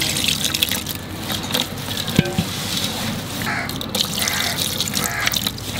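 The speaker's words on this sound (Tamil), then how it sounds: "நல்லா மசாலாவே தண்ணி ஊற்றி மிக்ஸ் பண்ணுறேன்." Water is poured into a spice masala paste and stirred in for a homemade quail fry, giving continuous wet splashing and sloshing with small drips, close and fairly loud.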